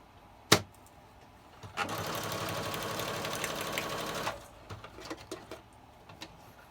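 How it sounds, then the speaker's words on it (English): A sewing machine runs a zigzag stitch through paper with rusty safety pins. One sharp click comes first, then a steady, close mechanical whirring for about three seconds, followed by scattered light clicks and taps. "Put it on my zigzag stitch."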